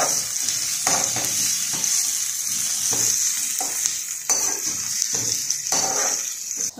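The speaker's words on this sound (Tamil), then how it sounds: "பச்சை மிளகாய் சேர்த்து கொஞ்சம் நல்லா வதக்கிக்கிடுவோம்" Onion and green chillies sauté in oil for poha upma, a loud continuous sizzle with rhythmic spatula scrapes through the pan every second or so, close by, no voices.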